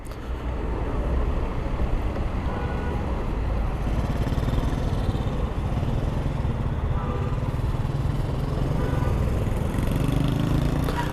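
Continuous engine drone of a Hero Duet LX scooter while riding, steady and loud with rushing wind noise throughout.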